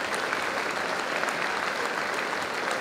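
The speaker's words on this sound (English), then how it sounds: "James Horsfield receives a round of applause from all supporters in the ground" A large football crowd applauds steadily at a Wrexham AFC match as a player is substituted, a dense wash of clapping that holds at an even level throughout, heard from within the stands.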